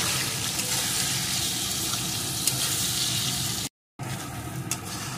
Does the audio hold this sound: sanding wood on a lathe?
no